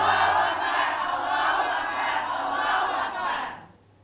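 A crowd at an Islamic religious gathering answers a takbir call with a loud unison shout. The dense chant holds for about three and a half seconds, then cuts off abruptly.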